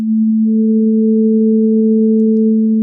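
A pure sine test tone hums steadily and loud, with a second, higher tone joining it shortly after the start. Both hold unchanged to the end.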